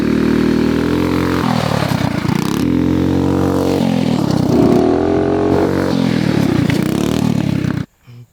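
A Mega Moto mini bike engine revs hard and loud up close, rising and dipping in repeated throttle surges during a jump, then cutting off abruptly with a brief clatter at the end.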